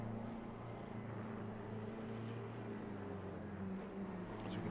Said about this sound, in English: we can hear the noise of the Aston Martin braking it there in the background